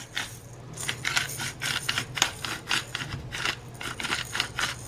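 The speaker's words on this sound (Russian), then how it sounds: "И добавляю черный перчик горошком." Black peppercorns are dropped into a bowl of seasoned filling for samsa, giving repeated small rattling clicks and scraping rustles in an uneven rhythm, close up and without talk.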